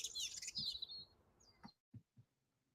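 Birds chirping outdoors in Hampshire, a quick bright run of tweets and trills at first, then fading out, followed by a few soft low knocks and near silence.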